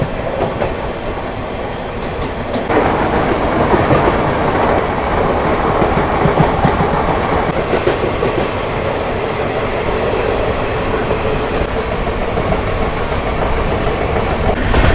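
The Patna Janshatabdi Express overtakes the Howrah Malda Intercity Express on a parallel track: loud, continuous rumbling of wheels and carriages with rhythmic clickety-clack, swelling louder after a few seconds as the other train passes alongside.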